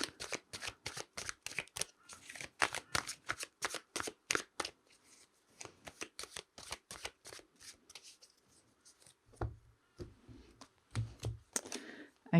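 Tarot cards are shuffled close by in quick, crisp riffles, a steady run of sharp flicks that thins out and then returns in scattered bursts.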